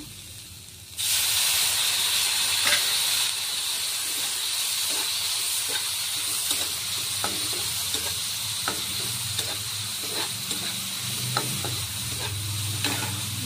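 Water poured into a hot pan of Bengali jhaal suji bursts into a loud, sudden hiss and steady sizzle of steam, with repeated light scraping stir strokes continuing through the rest of the sound.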